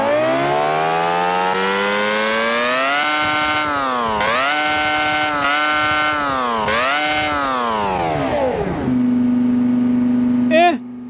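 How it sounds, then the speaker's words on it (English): Simulated F1-style V10 engine of roughly 700 bhp fitted in a station wagon, in BeamNG.drive, revving hard in repeated rising and falling sweeps, loud and close, before dropping back to a steady idle. "and here comes the rev"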